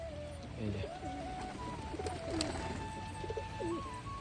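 Rock pigeons coo close by while being fed, their soft, repeated throaty calls overlapping steadily against a quiet background.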